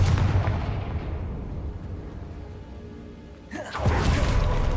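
A Confringo blasting spell in the Hogwarts Legacy video game: a loud, booming blast at the start decays into a rumbling tail, then a second sharp burst hits near the end, with no talk.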